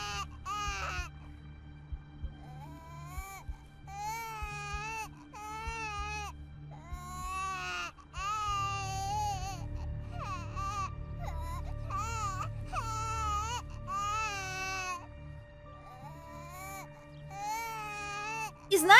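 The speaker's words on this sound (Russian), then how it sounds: "Мы услышали детский плач." A baby cries in The Sims 4, with repeated wailing sobs in rising and falling bursts over a low background hum, moderately loud and continuing through most of the stretch.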